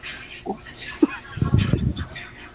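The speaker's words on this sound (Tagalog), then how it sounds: "Gising ng mga itik." A few ducks give scattered, close calls and short quacks, with a brief pause between them, then a louder cluster of calls near the end.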